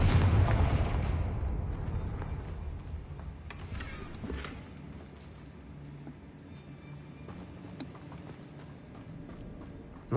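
Fire spell blasts in the video game Hogwarts Legacy: a loud, booming explosion at the start that rumbles and fades, followed by crackling debris and smaller impacts continuing under game ambience.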